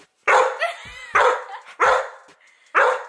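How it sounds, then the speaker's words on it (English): A dog barks four times in a steady rhythm, loud and close, with brief pauses between the sharp barks. "she's still barking at me"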